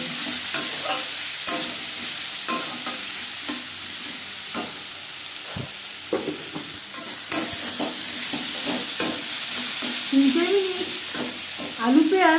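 Mushrooms sizzle steadily in a pan for a mushroom curry, with repeated scraping stirs and spatula knocks throughout and a brief tonal sound near the end.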